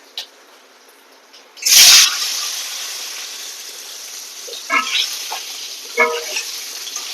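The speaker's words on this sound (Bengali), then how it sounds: "দিয়ে আমি ডিমটা তেলের মধ্যে ছেড়ে দেবো" An egg is dropped into hot oil seasoned with turmeric, setting off a sudden loud hiss that settles into a steady sizzle, with a few soft clinks and faint speech later.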